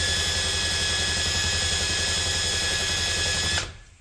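A power drill bores into a broken piece from a 1984 John Deere 1050 tractor, a loud steady whine with a low rumble that runs unbroken for several seconds, then stops abruptly.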